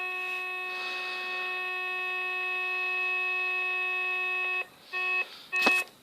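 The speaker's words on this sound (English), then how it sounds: "That gives you the disconnected tone" A steady electronic telephone tone from a SOHO-308C PBX system holds for several seconds, then cuts off, followed by a couple of short tone bursts and a click.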